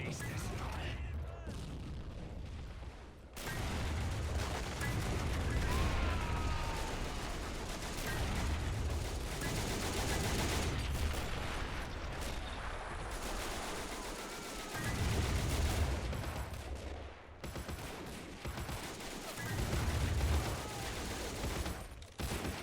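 A World War I field battle in the Men of War: Assault Squad video game roars with dense gunfire, machine-gun bursts and artillery booms, loud and continuous, with brief lulls and someone talking over it.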